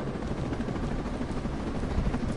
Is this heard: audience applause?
no